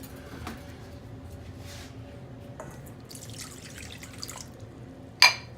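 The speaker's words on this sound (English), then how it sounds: "we're going to pour the vinegar and the soy in the bowl here" Vinegar and soy sauce are poured into a bowl in a home kitchen, giving a soft, thin trickle with a few light drips and a small clink near the end.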